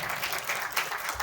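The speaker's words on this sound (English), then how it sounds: "in PIC there is no penalty for clapping when you feel like." Lecture-hall audience at a live-webcast ambassador's talk breaks into dense, steady applause, many hands clapping at once for over a second with no voices over it.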